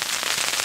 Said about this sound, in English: it's still hailing